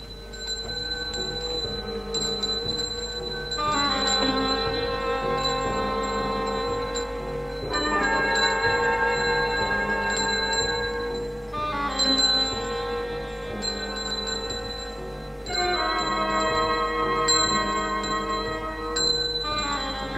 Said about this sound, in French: Le bruit de la sonnette soulevait des torrents de mouches.